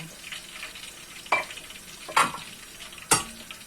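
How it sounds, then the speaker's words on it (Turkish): Zucchini pieces frying in a pan give a soft steady sizzle, broken by three sharp scraping clinks as they are stirred, with no talking. "kabağı güzel kızartırım"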